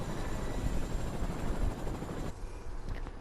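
A video game helicopter gives a steady rotor drone over a rumbling low end that drops off abruptly toward the end, fairly quiet with no voices.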